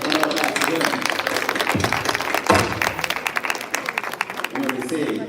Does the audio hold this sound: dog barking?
no